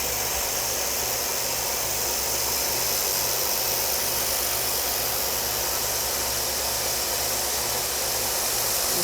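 A yarn spinning machine runs steadily while producing a 3-ply worsted, giving a loud, continuous mechanical hum and whir with a low rhythmic throb, no talking.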